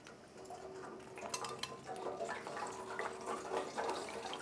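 Cut potatoes dropped into a bowl of water, soft splashes and sloshing with a few clinks and knocks, close by and fairly quiet.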